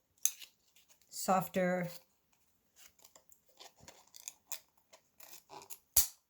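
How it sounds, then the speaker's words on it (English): Jagged scissors snip through a homemade fabric mask insert in a series of short, crisp, uneven cuts, close by, with a brief spoken phrase among them. "And I use jagged scissors"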